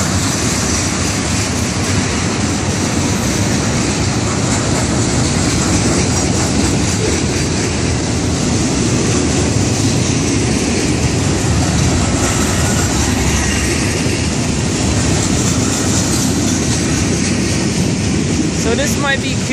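A CSX freight train rolls past close by with a loud continuous rumble and rhythmic clatter of wheels over rail joints.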